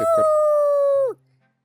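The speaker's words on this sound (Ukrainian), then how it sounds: "Хто там гавкає?" A dog in Minecraft gives a couple of quick yips, then one long sustained tonal howl that cuts off abruptly and leaves near silence.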